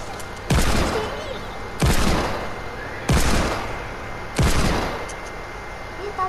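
Gunfire in a zombie apocalypse video game: four loud, evenly spaced shots or bursts, each with a sharp attack and a long fading tail, close and dominant over faint background.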